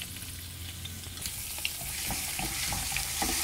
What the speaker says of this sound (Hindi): तो बस थोड़ा सा हल्का फ्राई होने दीजिए।